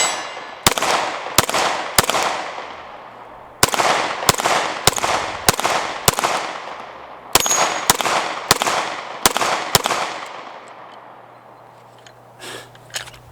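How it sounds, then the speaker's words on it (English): A Sig P320 pistol fires a series of about a dozen sharp, loud gunshots in quick irregular bursts, each with a ringing decay, followed by a brief quieter pause and faint clatter at the end. "So let's do some more shooting"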